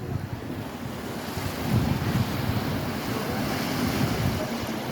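Waves wash ashore at Centre Island Beach under strong gusting wind that buffets the microphone, a loud, steady roar of surf and wind with no voices.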